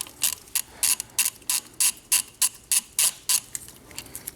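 A hand ratchet loosening a brake caliper bolt on a Tesla Model 3, giving a steady series of about a dozen crisp, close clicks in even rhythm with no talk.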